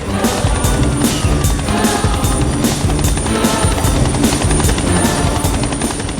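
In a movie scene, a loud helicopter thrums steadily nearby, its rotor blades chopping in a fast, even rhythm throughout.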